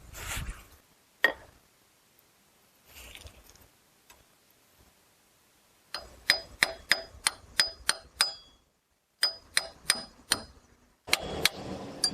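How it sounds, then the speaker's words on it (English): Sharp metallic taps ring out in quick series, a hammer tapping a socket to seat a part in a Chrysler 62TE transmission, in steady bursts with brief pauses. "use this socket and gently tap it in with a hammer"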